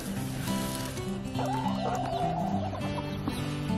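Black Copper Marans hens cluck in a flock, giving short repeated clucks and a drawn-out, warbling cackle close by with no talking.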